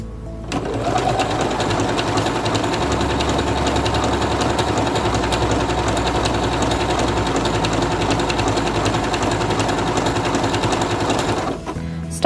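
A Singer Quantum Stylist 9960 sewing machine stitches fabric in one steady, fast mechanical run, loud and close, that continues for about eleven seconds before stopping abruptly.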